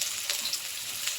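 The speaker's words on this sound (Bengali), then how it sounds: "এরপর কেটে রাখা পেঁয়াজগুলো দিয়ে দিচ্ছি।" Chopped onions fry in hot oil with a soft, even sizzle and a couple of faint stirring touches, brief and unaccompanied by voices.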